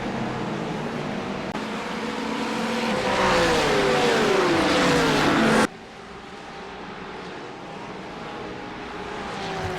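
A pack of race cars pulls away at the start of an IMSA endurance race at Belle Isle in the iRacing sim, engines droning and rising in pitch together, loud and steady with a sudden drop as the view shifts.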